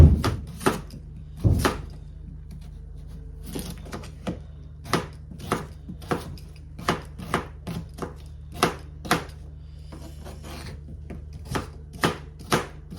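A knife chops potatoes on a board for leek and potato soup, over a dozen distinct thuds at an uneven pace with short pauses, close and clear, with no voices.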